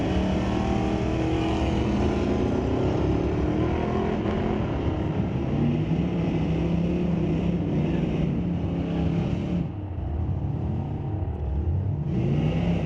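Camaro ZL1 and Corvette drag racing side by side down a street-legal drag strip at Mission Raceway Park, loud sustained engine roar with rising gear pulls across the whole run, a brief dip near the end.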